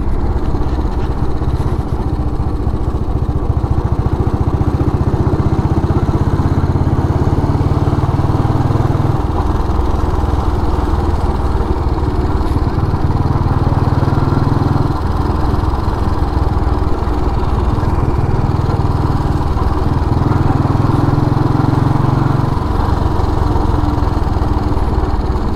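A Royal Enfield cast iron engine motorcycle runs steadily for a long stretch, a loud, close, throbbing thump with the pitch shifting slightly as the throttle changes, no talking.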